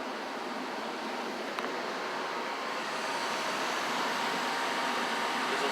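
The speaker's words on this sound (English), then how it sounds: "Also, furnace is running." Trane XB80 gas furnace running steadily beside a gas water heater, a continuous broadband whoosh of burner and blower air at constant level, close and unbroken, with no talking.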